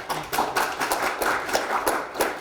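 Forum audience at an ESG conference gives a round of applause for the presenters, with dense, fairly even clapping throughout the room at moderate volume.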